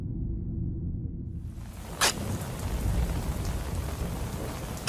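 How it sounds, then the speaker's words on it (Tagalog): Heavy rain pours down, building from quiet into a dense, steady roar with a sharp crack partway through, continuing loud and unbroken to the end. "Pero kasunod noon ay ang pagbuhos ng malakas na ulan."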